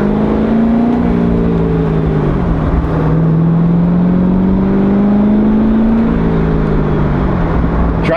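Chevrolet Corvette C6 Z06 engine droning steadily on frozen roads, a loud close interior rumble whose pitch rises and falls gently with the throttle over the whole stretch, without talk.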